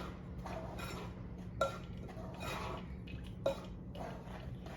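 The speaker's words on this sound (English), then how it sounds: "You mix these all together." Dry fry bread ingredients of flour, dried milk, salt, baking powder and sugar being stirred together in a bowl, soft scraping swishes with a couple of sharp clinks of utensil against the bowl, quiet, no talking.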